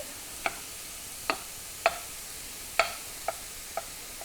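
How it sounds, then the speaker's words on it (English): Sharp pops and crackles from beef searing in a hot pan, about six spaced apart over a faint steady hiss, fairly quiet. "dump it in here and it's sizzling"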